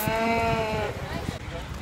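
A single ram bleats loudly and close at a fair, a wavering cry lasting under a second, followed by brief shuffling noise.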